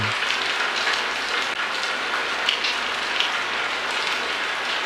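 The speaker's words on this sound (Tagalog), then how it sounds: "doon pa bumuhos ang malakas na ulan" Constant rain pours down in a broad, even hiss, with scattered droplet taps and no voices.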